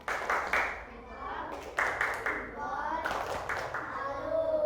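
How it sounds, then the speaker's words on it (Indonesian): A classroom gives a patterned clapping cheer (tepuk salut) for a student group, bursts of claps in short rhythmic sets mixed with children's voices and a teacher talking. "kita beri tepuk salut untuk kelompok 3"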